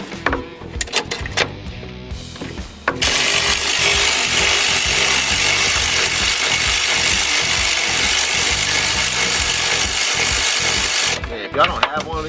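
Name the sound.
electric ratchet working on a car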